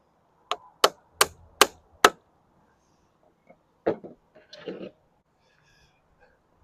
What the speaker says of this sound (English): A whole lot of rivet setting